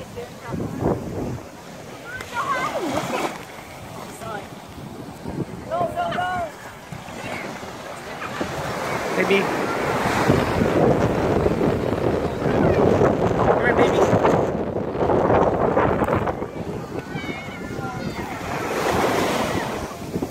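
Ocean waves at a Hawaii beach wash in with a continuous rushing surf, swelling and receding under gusty wind noise on the microphone, while people talk nearby.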